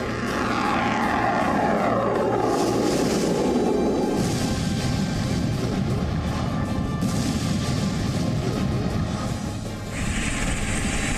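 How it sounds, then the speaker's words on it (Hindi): Russian military helicopters roar loudly and continuously with a heavy engine and rotor drone during wartime strikes in Ukraine, with no voices. "रूस के हेलीकॉप्टर्स हवाई हमले को नई धार दे रहे हैं"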